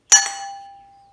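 A single metallic strike rings out at a rocket stove blast furnace forge, a bright clang that decays into a sustained tone over about a second, close and fairly loud.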